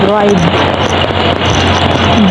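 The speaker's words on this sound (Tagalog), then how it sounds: "Lakas ng hangin." Loud, constant wind rumble buffeting the microphone at a tram stop, a broad roaring wash with faint tonal traces beneath, close and unbroken.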